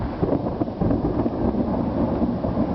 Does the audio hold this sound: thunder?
yes